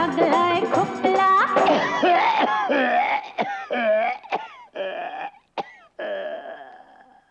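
A Marathi song breaks into a run of short, harsh coughs and throat-clearing bursts sung by a voice imitating a cough, after a stretch of melodic singing, each burst separated by brief pauses.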